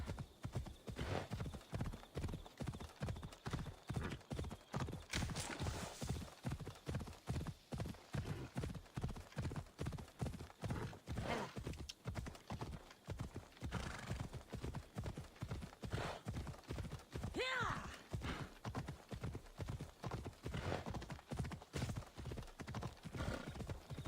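Horse hooves in the video game Assassin's Creed Odyssey beat out a fast, regular clip-clop rhythm for the whole stretch, with a brief neigh partway through.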